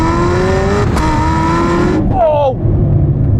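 A hypercar pulls hard, its engine note climbing steadily, then a sharp gear change cuts the tone before it builds again, loud and close from inside the cabin.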